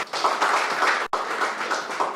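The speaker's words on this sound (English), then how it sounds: "A round of applause for her." Applause from a conference audience, continuous clapping of moderate loudness that runs throughout, with a brief dropout midway.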